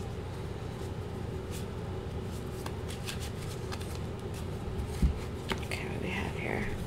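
Tarot cards shuffled and drawn at close range, a steady soft riffling that runs throughout, with a few sharper snaps and flicks near the end as cards are pulled and laid down, and a faint murmur of voice underneath.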